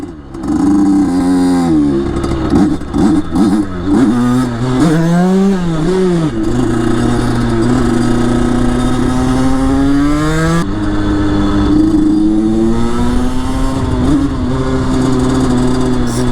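Motorcycle engine revving and accelerating up close, loud and steady, its pitch climbing and dipping through several pulls before settling into a sustained high drone, with no talk.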